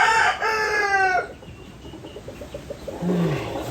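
A thin fighting rooster lets out one loud, close crow lasting about a second, followed by softer, scattered clucking and a short rising call near the end.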